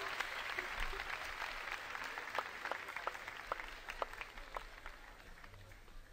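A concert audience at the Rumeli Hisarı open-air venue applauds together in a steady, even patter of many clapping hands that trails off slightly, heard from a distance with no voices over it.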